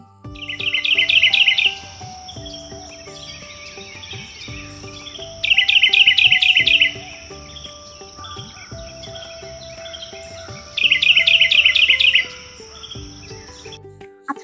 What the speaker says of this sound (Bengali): এইটা একটা পাখির শব্দ।